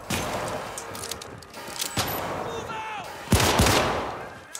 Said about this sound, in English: Matt's gonna keep shooting these